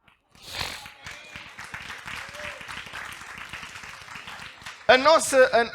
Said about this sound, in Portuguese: Alguém na internet que dê um aplauso?